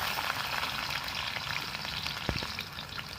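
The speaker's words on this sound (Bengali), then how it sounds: "কড়াতে তেল দিয়ে দিলাম মধ্যে দেবো আমরা রসুন কুচি" Chopped garlic frying in hot oil in a wok, a soft, continuous sizzle heard close and fairly quiet, with one sharp knock of a utensil near the end and no talking.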